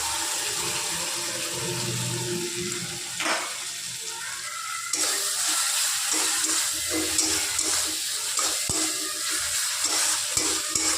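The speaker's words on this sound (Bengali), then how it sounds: "এবার আমরা মশলাটা একটু কষিয়ে নেব যতক্ষণ না মশলাটি থেকে তেল ছাড়ছে" Spice masala fries with browned onions in a pan for a rohu fish curry, a continuous close sizzle with stirring scrapes and a sharper burst of hissing partway through, with no talk.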